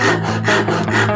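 Japanese back saw cutting wood at a 90-degree angle: loud, close rasping strokes repeating in a steady back-and-forth rhythm, with no voices.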